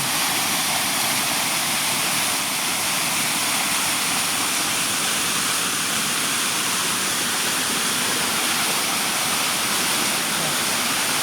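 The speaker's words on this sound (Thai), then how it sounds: "น้ำตกตะโนดไหลลงน้ำโสมครับ" Tanod waterfall pouring into the Nam Som river at Nong Waeng, Udon Thani, a steady, loud, broadband roar of falling water that holds constant throughout with no voices.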